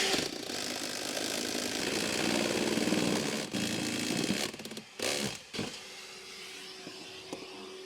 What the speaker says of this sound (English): I'm going to grab our impact and drill it out